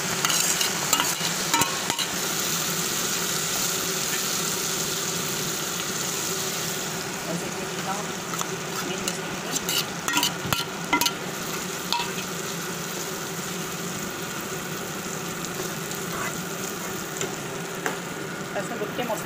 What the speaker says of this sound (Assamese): এতিয়া সৰিয়হখিনি দি লওঁ।